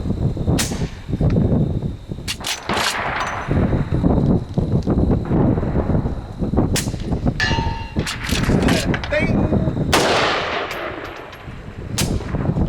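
A Henry Big Boy X rifle in .357/.38 Special, fitted with a Rugged Alaskan 360 suppressor, fires several sharp, spaced shots outdoors, with metallic clangs and ringing from struck targets between them.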